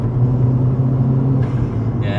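A Vauxhall Astra VXR with an upgraded exhaust drones with a low, steady engine rumble heard from inside the car, mixing induction and exhaust noise as it pulls.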